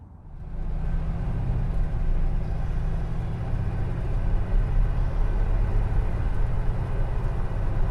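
A 1942 Chevy custom pickup truck rolling along an old highway, its engine and road rumble building up in the first second and then holding a steady, loud, low drone with no talking.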